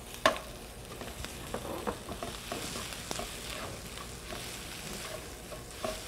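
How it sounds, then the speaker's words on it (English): Garlic sautés with golden onions in a hot pan, giving a steady close sizzle with scattered scrapes and taps of stirring. "I'm going to add the garlic. I don't saute the garlic for very long because I don't want to burn it."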